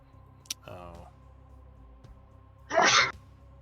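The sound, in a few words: sneeze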